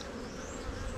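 Honey bees buzzing in and around an open hive at an apiary during a honey harvest, a dense, steady hum close by with no talk over it.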